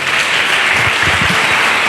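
Church congregation claps steadily in a dense, loud wave of applause that fills the whole moment, with no voices standing out.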